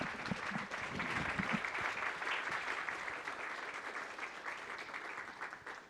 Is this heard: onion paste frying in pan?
no